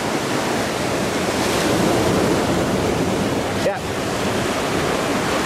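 Ocean waves on the beach at Galle Face, Colombo, a loud continuous roar of surf mixed with wind rushing across the microphone, with one brief spoken word.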